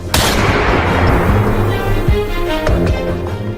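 Game gunfire from the battle royale Free Fire, a loud dense burst of booming shots with reverberant tails, continuing in a rolling series with a few sharper cracks throughout.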